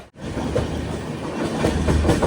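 Deccan Queen Express on the Pune to Mumbai run, heard from inside a Vistadome coach on a heavy rain day: a steady, loud rumble of rolling wheels with rhythmic clickety-clack over rail joints, briefly dipping near the start, no voices.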